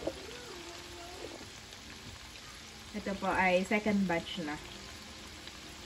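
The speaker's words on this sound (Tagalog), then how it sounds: "nagpiprito pa rin po tayo ng tokwa." Tofu sizzles and crackles in hot oil at a steady low level while a person speaks over it partway through.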